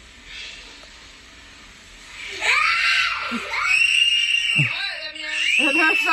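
A young boy shrieks at his own shadow, several loud, high, wavering screams rising and falling one after another, close and intense, following a quieter hissy stretch.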